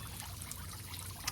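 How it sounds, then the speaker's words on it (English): Water poured from a bucket around an exotic fish pond outdoors, a steady close splashing trickle lasting a second or so, with no talk. "dissolve it in that, and then pour it around and see if that helps"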